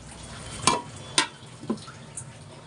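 Beef is stir-fried in a pan with potatoes, chopped onion and garam masala, giving a quiet frying hiss under a few distinct scrapes and stirring clatters from a spoon against the pot.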